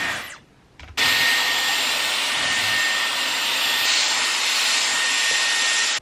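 A Dyson Airwrap blows air while drying hair, starting after a brief pause and then holding a loud, steady whooshing roar with a high whine for about five seconds.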